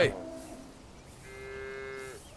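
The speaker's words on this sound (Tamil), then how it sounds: "இத்தனை மாடுகள்ல பாண்டிமுனி என் புள்ள மாதிரி" Cattle moo clearly and alone from a farm herd in a Tamil film scene, a short low call at the start followed by a longer, drawn-out moo about a second later, moderately close.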